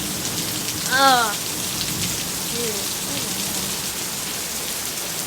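Steady, heavy rain pours during a thunderstorm in Laurens, South Carolina, a dense continuous hiss with a brief spoken voice near the start.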